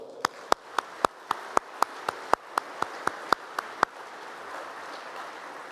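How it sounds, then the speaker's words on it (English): Sharp, evenly spaced claps from an audience at the Sandhurst 2025 award ceremony, about fifteen crisp strikes in a steady rhythm that stop abruptly, leaving a quiet room. "Give yourself a big round of applause."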